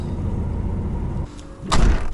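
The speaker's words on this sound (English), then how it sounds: "Get past this gate and then we can shut the doors." A lorry trailer's doors are swung shut, with one solid metallic bang near the end of the clip after a low steady engine rumble.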